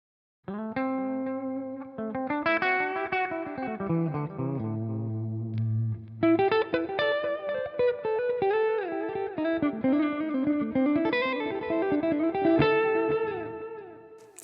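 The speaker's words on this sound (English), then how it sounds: "let's see if our delay is working." Electric guitar run through a Line 6 HX Stomp with delay engaged, playing a melodic line whose notes trail off in repeating echoes, steady and fairly loud with no talking.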